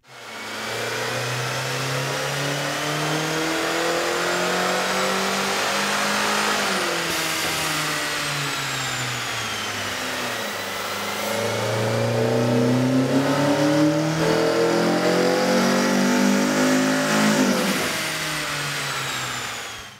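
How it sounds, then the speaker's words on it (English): A Kia Forte engine fitted with a K&N cold air intake revs up and down repeatedly on a dyno, climbing to high-pitched roars and dropping back, loud and close, with no talking. "we ran the vehicle on the dyno to test the sound comparison versus the stock intake."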